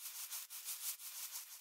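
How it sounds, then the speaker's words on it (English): A box of pasta shaken as a shaker sample, giving a bright, dry rattling hiss in quick rhythmic pulses, close and alone. "a recording of me actually shaking a box of pasta"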